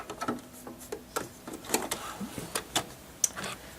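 A sewing machine tying off a locking stitch on a fabric coaster, a short run of irregular close clicks and mechanical taps of uneven spacing, fairly quiet, with no one talking.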